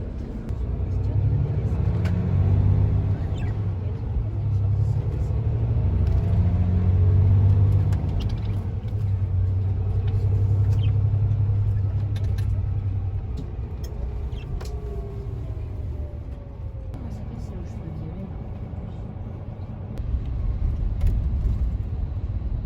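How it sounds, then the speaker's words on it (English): Interior of a bus leaving Paris for Rennes: a steady loud low engine rumble with road noise, occasional creaks and rattles, and a gear-like pitch sweep midway. "And now I'm in the second bus. We are leaving Paris and going to Rennes."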